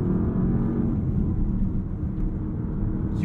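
A Porsche Panamera GTS Sport Turismo wagon, heard from inside while driving, gives a low, steady engine and road rumble that stays close and even, with a brief faint whoosh near the end and no talking.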